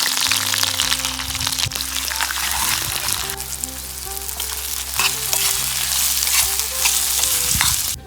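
Hot oil sizzling and frying steadily in a pan for a Gujarati sev tamatar curry, a dense continuous crackle with occasional stirring scrapes, close and loud throughout.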